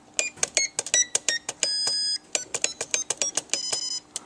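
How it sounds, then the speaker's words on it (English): A Hobbyzone Mini Super Cub transmitter gives a rapid series of short, sharp electronic beeps as the throttle trim is adjusted, with one longer held tone in the middle, close and clear. "it has audible beeps instead"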